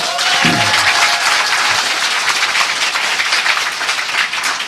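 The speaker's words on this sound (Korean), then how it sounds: "박수 한번 부탁드리고요" A studio audience at a Korean current-affairs talk show bursts into dense, sustained applause that fills the whole stretch at a steady, loud level, with a brief low voice near the start.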